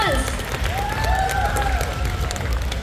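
An audience at a pinup pageant at the New England Tattoo Expo claps steadily with scattered cheers and whoops, a full, close burst of applause filling the room.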